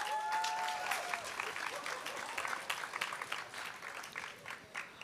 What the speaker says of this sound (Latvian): Aplausus studijā!